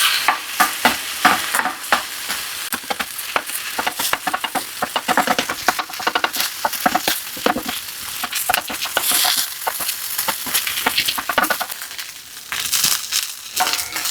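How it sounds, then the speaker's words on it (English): Garlic fried rice is tossed and mixed in a pan. It gives loud, close, rhythmic scraping and rustling strokes over a continuous frying sizzle, and no one speaks. "We're just gonna mix everything up."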